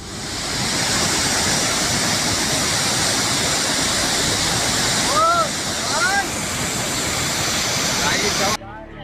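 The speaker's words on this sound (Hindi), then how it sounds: "पानी के शोर से अंदाजा लगा लीजिए, अगर कोई इसकी जद में आया तो फिर उसका क्या होगा" Floodwater of a monsoon-swollen river roars as a loud, steady, continuous rush, with a voice briefly audible over it.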